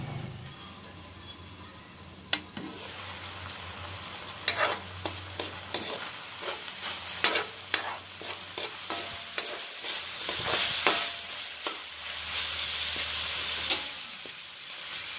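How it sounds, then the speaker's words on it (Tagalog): Ground pork cooking in a pan as filling for stuffed squid, with a steady sizzle and repeated scraping taps of a spatula stirring, close and moderately loud without talk. "I-simmer lang natin, takpan until maluto yung ground pork."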